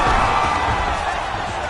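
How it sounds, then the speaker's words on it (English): A loud, continuous crowd roar from the UFC 5 fighting video game, reacting to strikes, with a dense, steady wash of noise throughout. "you hear the crowd react every time they come together"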